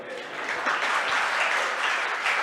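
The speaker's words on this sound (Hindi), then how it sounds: "क्यों धीमी ताली क्यों बजाते हो?" Audience applause at a Jain religious discourse, steady broadband clapping sustained throughout at moderate level with no talk over it.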